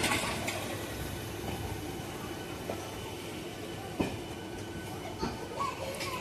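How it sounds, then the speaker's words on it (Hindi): A train pulls in to platform one at Rambagh station in Prayagraj, a steady rumble of wagons with a few sharp clanks and squeaks from the wheels, heard moderately close with no talking. "देखिए एक नंबर प्लेटफार्म पर गाड़ी लग रही है रामबाग में"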